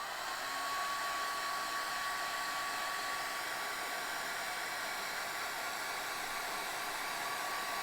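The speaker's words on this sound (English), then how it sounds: "Cover your ears if the blow dryer bothers you." A blow dryer runs steadily and loudly on wet painting paper coloured with Copic marker, a constant broadband whoosh with a faint whine, no breaks and no talking.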